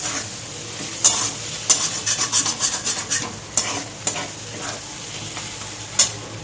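Taro leaves fry in a hot pan with a steady sizzle, while a spatula stirs and scrapes through them in sharp, irregular strokes every second or so.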